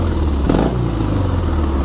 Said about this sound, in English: Listen to the way this thing idles.